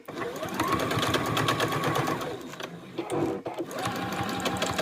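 A sewing machine runs steadily, stitching a seam on a zipper pouch with a waterproof lining, a continuous close whir with brief pauses and restarts midway.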